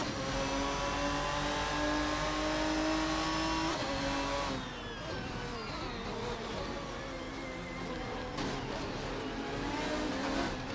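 GTR race cars accelerating around Misano in a racing game, a loud sustained engine note climbing in pitch, then a shift and renewed revving as cars pass.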